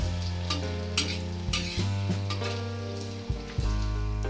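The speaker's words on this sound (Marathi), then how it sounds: "थोडस तेल टाकलेलं आहे त्याच्यामध्ये चांगला कांदा भाजतोय" Onion and spices frying in oil in a pan, a steady close sizzle broken by a few stirring scrapes, under a constant low background hum.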